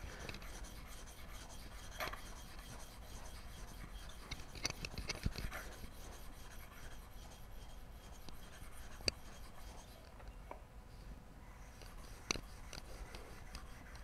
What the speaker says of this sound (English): This is the longest and most boring part of tuning up a new chisel, flattening its back.